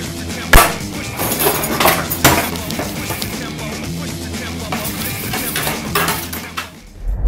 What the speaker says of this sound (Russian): Сейчас мы режем на 8частей.